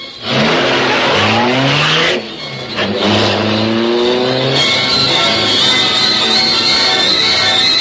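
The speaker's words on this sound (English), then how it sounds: "for the sleek, superpowered Black Beauty high-speed car of the Green Hornet" The sleek, superpowered Black Beauty high-speed car of the Green Hornet, a radio drama effect: a loud, close engine roars and revs upward in sustained accelerating sweeps, briefly dipping before climbing again.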